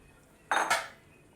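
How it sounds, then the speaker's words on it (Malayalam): Mashed eggplant and tomato mix dropped into a pan for eggplant masala curry, two quick close clattering scrapes of a utensil against the metal pan, fading out, no talk. "ഇനി നമുക്ക് നേരത്തെ കൈകൊണ്ട് തന്നെ ഉടച്ച് വെച്ചിരിക്കുന്ന നമ്മുടെ കത്തിരിക്കയും ടൊമാറ്റോയുടെയും മിക്സ് ഇതിലേക്ക് ഇട്ട് കൊടുക്കാം"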